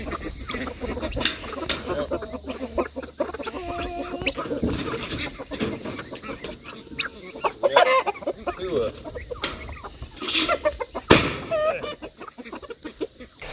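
Chickens cluck and murmur nearby in short scattered calls from a chicken tractor during a hurricane, with bits of rustling and shuffling around them.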